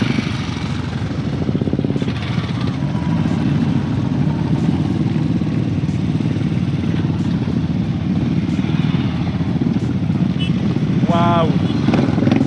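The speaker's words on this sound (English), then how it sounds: "like so many riders are arriving right now." Motorcycles rolling in at a bike festival in Nagaland, a steady engine rumble that runs throughout with a brief horn-like tone near the end, and people talking over it.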